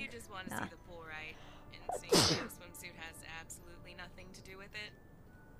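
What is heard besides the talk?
sneeze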